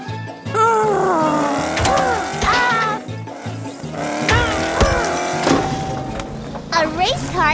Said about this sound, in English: A race car isn't so fast in the jungle